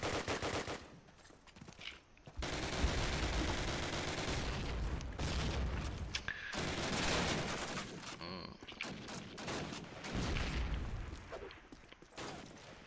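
Rapid gunfire in a competitive first-person shooter match on the Dawnville map, with bursts of automatic fire that start and stop abruptly, separated by brief quiet gaps, loud and close.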